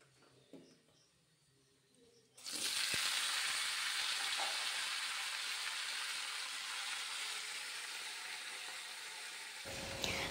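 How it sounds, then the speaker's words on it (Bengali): After a quiet start with a few small clicks, food hits a hot pan and a loud, bright sizzle bursts in, then holds steady and close for several seconds with no talking. "এই ছ্যাঁক ছুঁক শব্দগুলোকে একটুখানি রেখে দিই, ভয়েস দেবো না"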